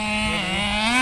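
A Honda Prelude with a freshly swapped engine revs in one sustained, loud pull, its pitch climbing steadily toward the end, with no voices over it.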